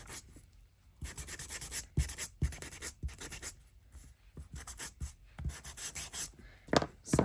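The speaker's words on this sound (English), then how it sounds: "sand down the edges." Craft paper edges are rubbed down with sanding, a series of short, close scratchy strokes in an uneven rhythm with brief pauses between them, quiet and alone.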